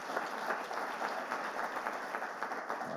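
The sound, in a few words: audience applause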